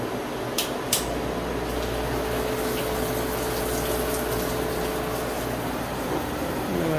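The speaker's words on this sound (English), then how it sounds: "first we gotta run a little coolant, wash this out." Coolant running in a CNC machine to wash out a new vise, a steady hissing wash of liquid with a low pump hum, preceded by a couple of sharp metallic clicks near the start.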